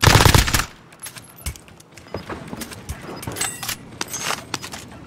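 Heavy gunfire in the Warzone video game: a loud burst up front, then scattered shots and clattering bursts of mixed weapons carrying on at mid distance with no talking.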